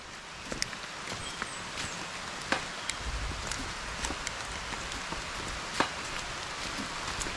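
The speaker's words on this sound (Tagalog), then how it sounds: "Muulan na naman. Waterproof yan? Oo. Walang katapusan na ulan to mga kabeli." Light rain patters softly in the open on a mountainside, with scattered sharper drips and occasional rustling, faint and quiet overall.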